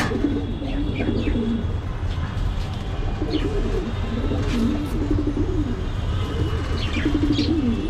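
Newly paired pigeons, a hen matched with an outside cock, give repeated soft throaty coos in rolling phrases over a constant noisy background, with a few faint chirps mixed in.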